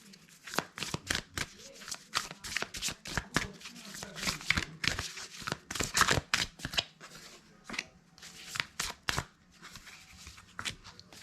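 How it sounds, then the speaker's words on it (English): Tarot and oracle cards being shuffled by hand, a rapid series of crisp riffling flicks and snaps repeating close up for several seconds, with no talk. "we are going to draw some cards, more cards here"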